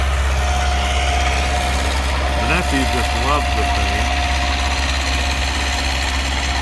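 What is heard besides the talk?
small tractor engine idling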